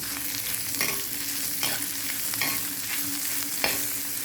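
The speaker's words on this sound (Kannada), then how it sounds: "ಒಂದು 5-6 ಮೆಣಸನ್ನು ಕೂಡ ಹಾಕಿದ್ದೀನಿ. ಚೆನ್ನಾಗಿ ಇದರಲ್ಲಿ ಫ್ರೈ ಮಾಡುವ." Spices and five or six peppers fry in a pan for crab curry, giving a steady close sizzle with periodic scraping strokes of a stirring spoon, and no talking.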